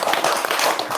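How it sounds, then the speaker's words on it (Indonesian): A brief, dense burst of audience clapping, loud and close, with rapid overlapping hand claps filling the whole second. "Tepuk tangan dong, luar biasa."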